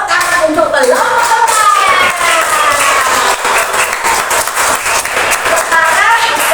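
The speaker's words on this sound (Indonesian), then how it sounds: "Beri tepuk tangan untuk kelompok" Loud, dense applause for a group at a school positive-culture session, many hands clapping rapidly and steadily close by, with voices mixed into the crowd noise.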